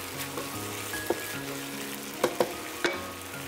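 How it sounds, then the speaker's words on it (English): Jasmine fried rice sizzles steadily in a hot wok while a utensil scrapes and clinks against the metal a few times. No voices. "Dry up and sear the fried rice a bit."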